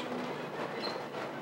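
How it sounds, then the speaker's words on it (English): A passing train gives a dense, steady rumble and rolling roar with a brief faint squeal, loud and continuous across the whole moment. "You got the train!"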